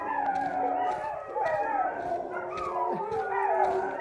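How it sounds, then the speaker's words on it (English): Several dogs bark and yelp in overlapping bursts along village lanes on Fuerteventura, some notes stretching into howls, moderately near and continuous throughout. "We've set all the dogs off."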